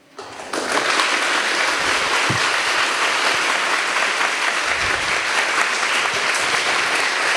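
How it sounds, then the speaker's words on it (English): Students at a Kendriya Vidyalaya school function break into loud, sustained applause after teachers are congratulated, the clapping starting abruptly and continuing as a dense, even roar of many hands with no voices over it. "Is that clap enough?"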